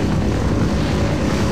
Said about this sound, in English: Alright, they're gonna come up here. The plane coming over.